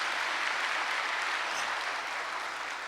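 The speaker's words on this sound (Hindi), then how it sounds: "भले जोर से ताली बजाओ" Steady, loud applause from an audience at a spiritual gathering, continuous broadband clapping that fills the whole stretch without a break.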